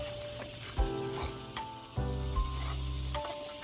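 Eggs frying over easy in a skillet give a steady, close sizzle with a few sharper crackles and spatters, and no one speaks.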